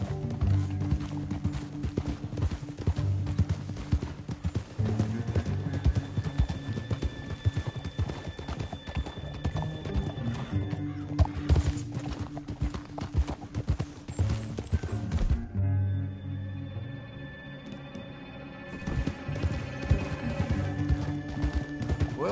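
In Red Dead Redemption 2, a horse gallops across a canyon, its rapid thudding hooves pounding steadily and loudly with game music and effects, easing briefly before resuming.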